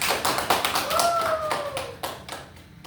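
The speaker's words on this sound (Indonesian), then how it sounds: "Beri tepuk tangan untuk kita." Indonesian classroom students clap their hands together in a brief burst of dense, sharp claps with a rapid rhythm, close and fairly loud, fading out after about two seconds.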